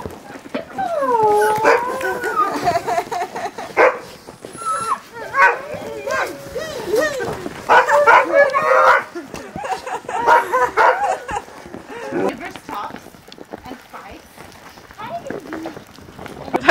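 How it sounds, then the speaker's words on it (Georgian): Sled dogs are let loose in snowy northern Norway, barking, yipping and whining as they rush about close by, while people talk excitedly over the commotion. "გამოუშვებს ახლა ძაღლებსა და იწყებენ აქ სირბილებს და მოგვახტებიან"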